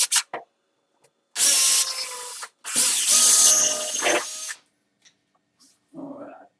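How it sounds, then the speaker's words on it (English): A power drill boring a small pilot hole into a solid wall surface for a grab rail, two sustained bursts of close, loud whirring with brief gaps, then a few faint taps. "I definitely had a solid surface that whole time I was drilling."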